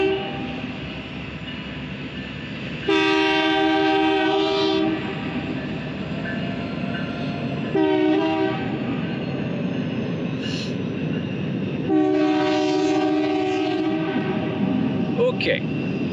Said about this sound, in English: Oh boy, here comes a train.